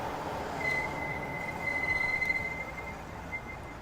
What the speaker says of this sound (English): Squealy brakes.